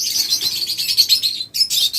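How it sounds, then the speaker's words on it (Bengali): Busy, high-pitched chirping from several small pet red-eye birds, continuous and close, with a brief pause near the end before the twittering resumes. "প্রত্যেকটা কিন্তু রেড আই পাখি এগুলো"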